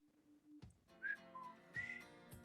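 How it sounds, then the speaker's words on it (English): A person whistles a short, wavering tune of a few notes. The whistle is close and quiet, with breathy gaps between the notes and no talking. "That was a bad whistle."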